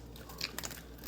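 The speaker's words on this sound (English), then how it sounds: "You hear that crunch?" Crunchy bite into fried chicken ice cream, a couple of faint brittle crunches close to the mouth in a quiet setting.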